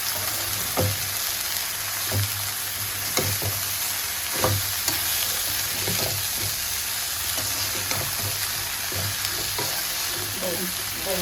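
Ginger fries in a pan on a home stove, giving a steady sizzle under sharp, irregular scrapes and knocks from stirring, heard close and alone.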